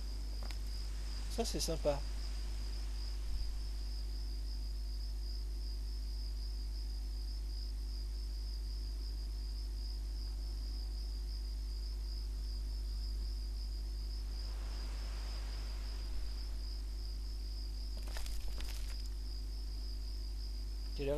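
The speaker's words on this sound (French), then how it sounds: "On entend les grillons ou les cigales." Crickets or cicadas in the video game Oblivion near a guard tower at dawn, a thin continuous high chirping drone running steadily throughout, with a few brief voice remarks and small interface clicks over it.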